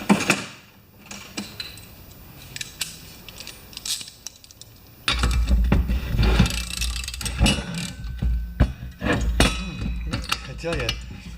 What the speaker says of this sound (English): I'm going to just put the spark plug in here so that nothing evil falls inside there.